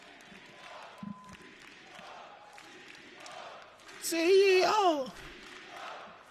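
Crowd at an Apex Legends ALGS Split playoff final esports event, TSM fan zone, swells into a loud cheer and roar for a few seconds midway, with a host talking over the venue noise before and after.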